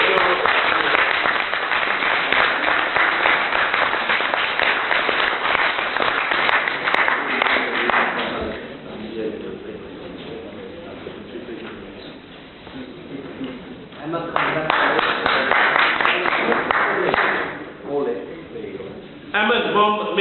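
Audience applause at an award ceremony at the Houses of Parliament, with sustained clapping from a crowd that dips, then returns in a second strong wave, captured on a muffled, narrow-band recording.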